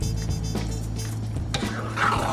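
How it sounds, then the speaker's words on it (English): A spoon stirs raw shrimp into a thick casserole mixture for Jamaican-style shrimp Florentine in a bowl, making a few soft wet scrapes and clinks close up over a low steady background hum. "So I'm gonna mix in my shrimp"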